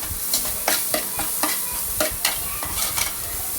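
Upma mixture with curry leaves being stirred in a pan, a rhythmic series of sharp spoon scrapes roughly every half second over a continuous sizzle, close and clear, with no talking.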